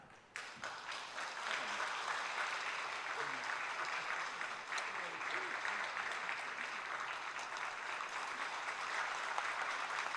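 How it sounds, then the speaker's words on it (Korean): Church congregation applauding during a scholarship presentation at a Sunday worship service, dense clapping that starts abruptly and stays full and steady for several seconds, with faint murmuring voices mixed underneath. "담임 목사님께 장학금 전달하실 때 큰 박수 부탁드립니다."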